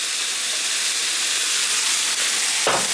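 Rice browning in a pan for caldo de pollo gives off a steady, bright sizzle and hiss that stays loud and even throughout, with a brief louder crackle near the end.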